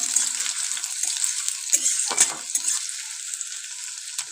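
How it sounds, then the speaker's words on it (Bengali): Chopped onion frying in hot oil in a wok: a loud, dense, continuous hiss of sizzling oil close by, with a brief stirring rustle near the middle. "পেঁয়াজটাকে দিয়ে খুব ভালো করে কিন্তু ভেজে নেব আমরা।"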